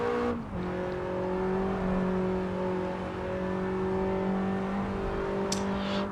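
A Lancia Delta S4 Stradale in the Assetto Corsa racing game holds a steady, droning engine note in third gear, loud and close, with a brief shift in pitch near the start and a faint squeal later on.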